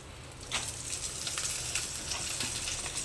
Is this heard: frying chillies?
yes